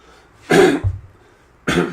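Two harsh, close coughs with a short pause between, the first followed by a low throaty rumble.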